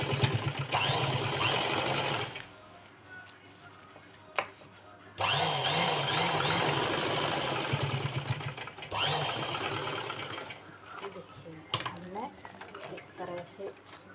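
A sewing machine stitches a handbag made from a plastic sack. Its steady mechanical whir runs in long bursts separated by short pauses, while a voice talks over it.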